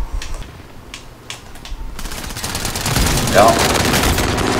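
SMG gunfire in a video game, rapid sustained automatic bursts that start after a few faint shots and run loud and continuous, with a voice briefly speaking over the firing.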